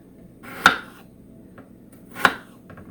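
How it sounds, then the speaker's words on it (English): Two distinct knife chops through cherries onto a cutting board, crisp and close, spaced more than a second apart with quiet in between. "I'm cutting cherries"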